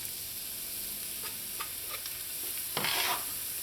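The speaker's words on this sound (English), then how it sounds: "When your oil is nice and hot, you're going to add in your finely chopped onions" Finely chopped onions sautéing in hot oil for Trini aloo pie filling, a soft steady sizzle with a few light stirring taps and a brief louder burst of frying near the end.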